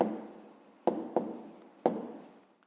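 Pen writing an answer by hand on paper during a fifth-grade maths exercise: soft continuous scratching strokes with a few sharper taps, close and quiet, no talk.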